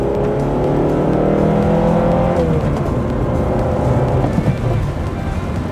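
A 1994 Honda Accord with an F22 engine and manual gearbox revs up loudly and close, the pitch rising then dropping at a gear change before climbing again.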